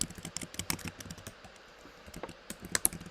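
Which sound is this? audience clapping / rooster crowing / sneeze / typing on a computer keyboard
typing on a computer keyboard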